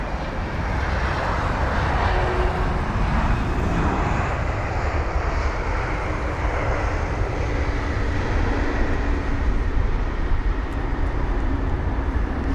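A DHL Airbus A300 on a shaky approach at Heathrow, its engines giving a steady, broad roar that holds at constant loudness throughout, with no voices.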